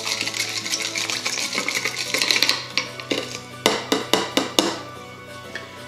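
Ice rattles and clinks as a mint julep is swizzled, a busy stream of glassy knocks that thins into a few distinct sharp taps near the end, with no talking.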